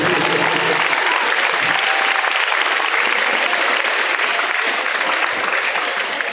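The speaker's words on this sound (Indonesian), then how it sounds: "boleh untuk berikan tepuk tangan untuk Ibu." Audience applause for a woman at an event, loud, sustained clapping from a large crowd filling the whole stretch, with faint voices mixed underneath.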